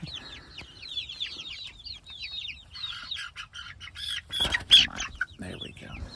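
Hens in a backyard chicken tractor cluck and chatter in quick repeated calls, then a burst of wing flapping and scuffling breaks out close by, fairly quiet overall.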